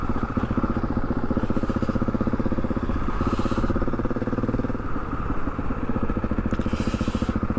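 Motorcycle engine running steadily and close up with a continuous mid-range drone and rattly texture while riding, loud and unbroken throughout, no talk.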